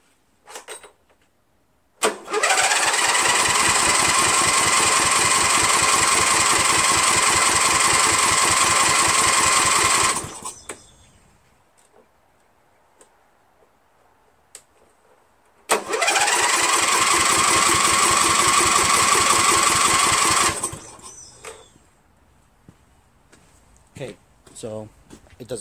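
A Briggs engine on an MTD Cub Cadet lawn tractor cranks in two long, loud bursts of rapid starter churning, about eight and five seconds each, without catching, separated by quiet.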